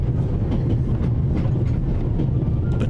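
A train rolls along in the video game The Raven: Legacy of a Master Thief, with a steady low rumble and rhythmic clickety-clack of wheels over rail joints, continuous and close, with no voices.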